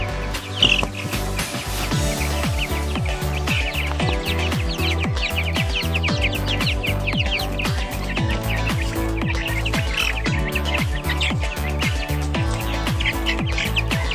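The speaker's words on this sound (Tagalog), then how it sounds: "samahan niyo ako maglipat ng sisiw dito sa ating kulungan" Baby chicks chirp constantly and loudly at close range while being shifted into a coop lined with rice hulls, their bright tweets repeating in a dense, steady chorus over light clattering and handling sounds.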